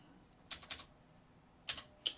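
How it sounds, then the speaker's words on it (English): A computer keyboard is used to type in a radio frequency: a few soft, close keystrokes in small clusters, faint against a quiet background. "I click on frequency, and I can type in a frequency, so 29610."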